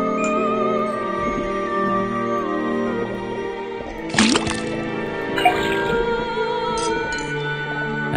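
Liquid drips and trickles from a tapped faucet in the Detective Grimoire video game, a few wet splashes and clinks rising over a sustained layer of game music.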